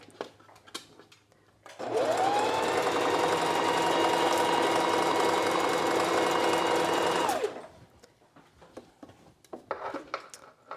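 A sewing machine stitches a pants seam at a half-inch allowance in one continuous loud whirring run of about six seconds, starting up and stopping abruptly, with quieter handling noises around it.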